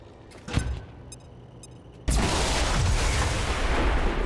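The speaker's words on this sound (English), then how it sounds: "that explosion should do something as well." Plasma grenade explosion in XCOM 2 bursts in suddenly after a small thump, then rolls on as a loud, sustained roar of fire and debris filling the rest of the moment.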